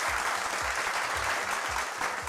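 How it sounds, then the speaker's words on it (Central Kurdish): A studio audience on a TV quiz-comedy show applauds after a joke with steady, dense clapping. It sounds close and continuous throughout, with no talking over it. "ئای کۆ چەپڵەکانتان جەماعەتی کۆنتڕۆڵ نوکتەم گێڕایەوە"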